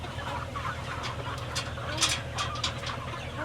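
Chickens clucking and squawking as they are loaded into crates ten to a bird crate beside a chicken tractor, with several sharp bursts of clucks over a steady low rumble of background noise.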